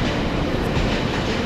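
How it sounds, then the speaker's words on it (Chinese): A passenger train rolls along the tracks on an autumn trip toward Fulong, a steady close rumble with rhythmic wheel clatter and no voices. "火车的声音令人倍感熟悉"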